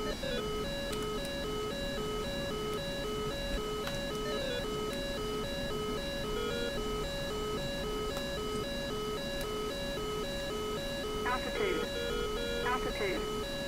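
Inside a DCS F/A-18C Hornet cockpit, a radar warning receiver tone locked by a friendly Patriot battery repeats as steady electronic beeps in a regular pulsing pattern, with constant engine rumble underneath and brief chirps near the end.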